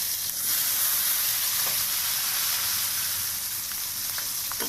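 Vegetables fry in a pan after cumin seeds are tempered in hot oil, a steady close sizzle and hiss running throughout with a few faint clicks of stirring, no voices.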